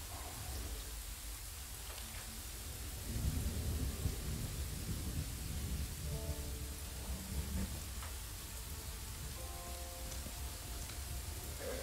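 Steady rain hiss with a low rolling rumble of thunder swelling midway, ambient weather from the fantasy role-playing game Pathfinder: Wrath of the Righteous, where blood rains down; melodic game tones sit faintly on top.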